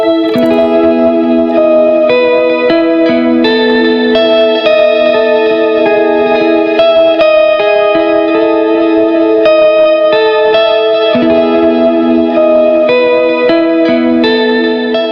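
Sustained electric guitar chords on a Gretsch White Falcon ring out through heavy delay and reverb, washing together into a continuous, shimmering, modulated tone with no pauses.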